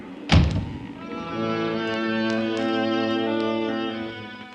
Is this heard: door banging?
yes